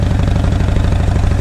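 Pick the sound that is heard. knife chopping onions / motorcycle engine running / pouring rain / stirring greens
motorcycle engine running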